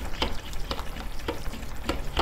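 Wet, squelching stirring strokes in minced chicken in a bowl repeat in a steady rhythm, about four or five sticky slaps, close up with no talking.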